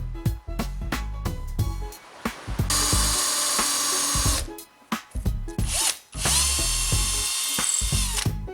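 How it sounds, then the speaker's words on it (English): A drill press whirs up in repeated bursts, its motor whine rising and falling as the bit bores through wood for a pattern maker's vise, with clunks between runs. "I have to drill the hole on the drill press"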